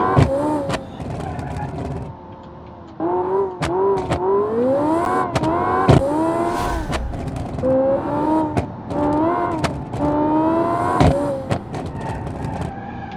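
A race car engine revs and accelerates through corners, pitch climbing and falling in repeated surges with brief drops between, loud and close, with a few sharp clicks.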